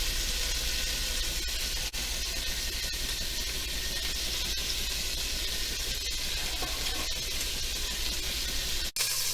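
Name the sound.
turkey pieces sizzling as they brown in a pan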